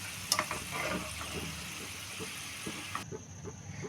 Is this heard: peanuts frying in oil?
yes